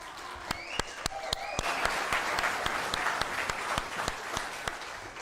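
An audience at a live showcase claps in a round of applause, individual sharp claps standing out over a steady mass of clapping that carries on for several seconds.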